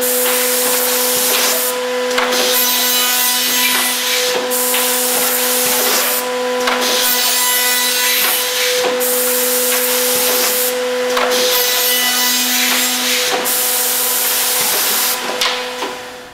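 Accu Systems CXT CNC machine climb cutting wood, a loud steady machine whine with constant tonal hum and periodic surges as the cutter moves through the material, continuous throughout with no talk.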